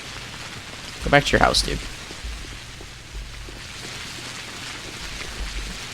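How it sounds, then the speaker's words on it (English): Steady rain falls at night in the game Pathologic, a constant hiss running through the whole stretch, while a voice speaks briefly over it near the start. "you should not be walking around in the rain at 3 in the morning"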